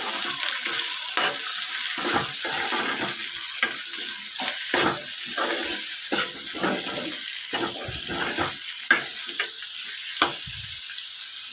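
Ivy gourd pieces and peanuts fry in oil in a pan at low heat, a steady close sizzle broken by frequent stirring scrapes and soft clatters throughout.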